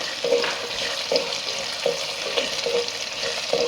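Garlic and ginger sautéing in hot oil with onions for a Coimbatore-style spicy brinjal curry, giving a steady close sizzle with a stirring scrape roughly every half second and no talking.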